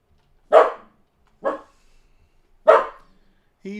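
Pet dog barking just after waking up indoors, three loud separate barks spaced about a second apart with silence between, then a fourth beginning at the end.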